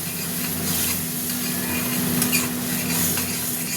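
Fish curry masala (cut rohu-style fish curry spices) sizzling and bubbling steadily in a hot oiled pan while being stirred, a continuous close frying hiss with occasional scrapes and spoon taps, no talking.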